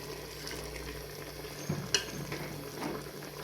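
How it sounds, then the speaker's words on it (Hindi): Cooking oil in a pan gives a soft sizzle and bubbling, with a stir and a clink against the pan partway through, faint and close. "अब इसमें डाल दिया जी ऑयल"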